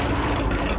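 Single four-cylinder engine of a scrapheap-built land speed record car running as a continuous low rumbling drone, close and steady for a brief moment with no voices.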